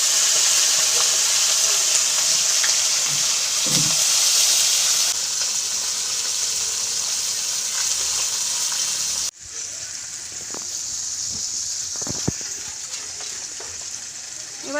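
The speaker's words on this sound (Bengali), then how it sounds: "এবার মাছটা ভেজে নেব।" Fish frying in hot oil in a wok, a loud continuous hiss and sizzle that drops slightly partway through, with a few clinks and faint talk in the background.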